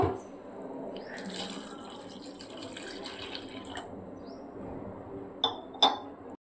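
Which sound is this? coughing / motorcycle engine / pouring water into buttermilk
pouring water into buttermilk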